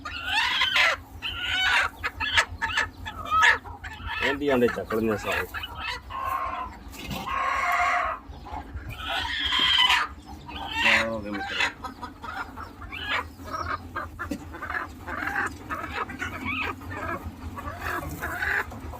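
Broody hen clucking while settled on a clutch of about fifteen eggs at a poultry farm, her soft clucks recurring through the clip beneath steady nearby speech in Punjabi-Hindi.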